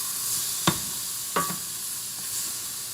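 Shrimp searing in a single pan with pineapple and garlic, giving a steady broad sizzle with two brief scraping stirs near the start and middle.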